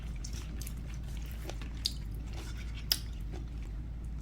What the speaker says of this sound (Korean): 양파하고 이 수박 껍질하고 같이 먹으니까 간이 딱 맞아요.